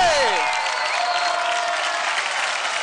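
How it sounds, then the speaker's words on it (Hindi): A studio audience at a televised dance competition claps and cheers after a performance, a loud, dense wash of applause filling the whole clip. "परफॉर्मेंस जोरदार तालियों से शशांक के लिए।"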